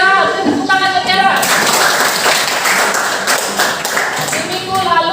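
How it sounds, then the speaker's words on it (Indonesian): Students in a classroom clap for a classmate, a short, close burst of many hands, with voices talking just before and as it ends. "Tepuk tangan ke Tiara."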